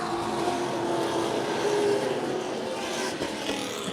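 Race cars roar off at the green flag of the Boss Hogg 150, a dense, loud, steady engine blare that swells slightly as the pack accelerates down the backstretch, with no talk over it.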